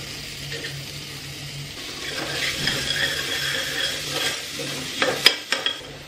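Finely chopped onion fries in a pan while being stirred. A close, soft sizzle runs beneath slow scraping strokes, ending in several sharp knocks of the spoon against the pan, with no voices.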